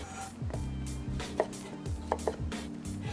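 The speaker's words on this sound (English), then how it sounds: "I'm just chopping my red peppers for the tomato pasta and lentil." A knife chops red peppers on a board in a home kitchen for a tomato pasta and lentil dish, giving quiet, irregular knocks spaced through the stretch with no talk.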